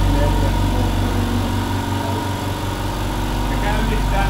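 Several compressor motors, four of them started one after another, run as a steady low engine-like hum and drone, fairly loud and continuous, noticeably quieter than old compressors.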